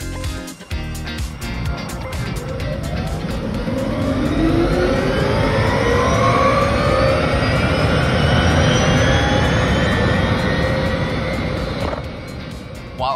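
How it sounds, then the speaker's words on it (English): A rising electric motor whine from an Arcimoto FUV three-wheeled electric vehicle sweeps upward in pitch as it accelerates, loud and close, with road and wind rumble underneath. "the jet engine-like sound of the Arcimoto's electric motors to be just as awesome and addicting"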